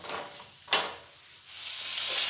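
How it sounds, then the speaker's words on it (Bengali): Potatoes frying with salt and turmeric in a pan, a broad hiss of sizzling oil with a sharp burst of spitting, then a rising, steady fry. "হলুদ গুঁড়ো দিয়ে আলুগুলো খুব ভালোভাবে নুন হলুদের সাথে মিশিয়ে লাল করে ভেজে নেব"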